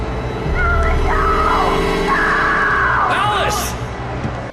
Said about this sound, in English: Alice's screams start to sound less like someone afraid of the dark and more like someone being attacked